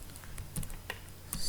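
C# code for an ASP.NET database app being typed in Visual Studio on a computer keyboard, light scattered key clicks in an uneven rhythm, close but soft over a faint background hiss, no talking.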